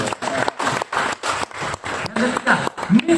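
An audience claps at a leadership seminar at Berau Coal, short bursts of applause that rise and fall in uneven pulses, with speech mixed in.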